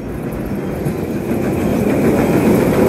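Empty Velocicoaster roller coaster trains cycling at Islands of Adventure on a rainy day, a loud continuous rumble of wheels on track that builds steadily, close by and with no voices.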